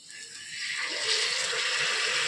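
Water pours into a pressure cooker pot of washed rice, a rising, steady splashing gush that swells to a full rush and then cuts off abruptly, close by with no talking.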